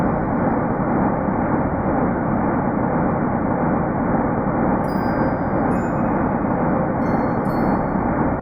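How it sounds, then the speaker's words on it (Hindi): A sonified rendering of the cosmic microwave background from the early universe, a dense, steady roar of broadband noise that stays loud and unbroken throughout, with faint high shimmering tones appearing toward the end. "यह है ब्रह्मांड की आवाज।"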